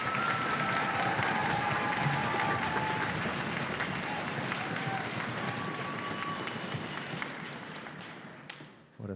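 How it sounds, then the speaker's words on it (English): A concert audience applauds orchestra students at a spring school concert, a dense, steady wash of clapping with crowd noise that holds for several seconds and then tapers off. "Please give our students a big round of applause."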